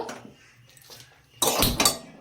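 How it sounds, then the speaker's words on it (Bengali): A metal wok clanks down onto a gas stove with a sharp scraping rattle, loud and close, after a quieter stretch of faint kitchen clatter. "আমি কড়াই বসিয়ে নিয়েছি"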